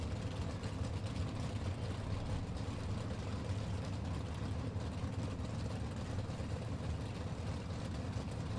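1972 Datsun 510 race car driven by Ted Barnes at a fall slam racing event, its engine a steady low rumble throughout, fairly distant and even in level with no clear revs.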